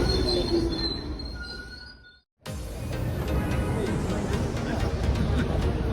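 A New York subway train rumbles loudly and steadily close by, its wheels squealing along the rails, then it briefly cuts out and roars back in with a rising metallic whine and faint crowd babble underneath.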